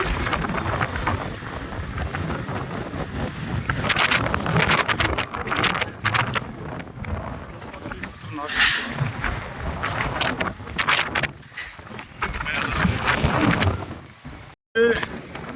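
A daytime storm with strong wind and light rain: rough, gusty roar buffeting the microphone in uneven surges, with someone talking over it throughout.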